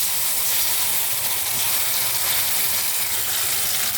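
Taro paste hits a hot pan of reddened fried onions, giving a continuous bright, close sizzle and hiss that holds steady and loud throughout, with no voice.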